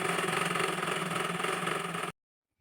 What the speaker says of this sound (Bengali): আমি 2টা কাপড় সমান করে নিয়ে সেলাই করে নিচ্ছি।